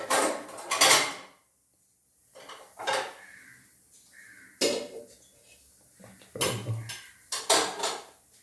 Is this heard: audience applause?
no